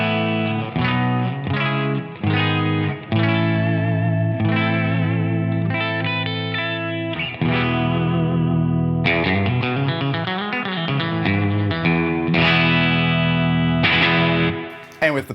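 Clean electric guitar tone from a sparkle-finish Fender Jaguar, strummed chords and arpeggiated notes ringing steadily with a bright, sustained sound for about fifteen seconds, no voice over it.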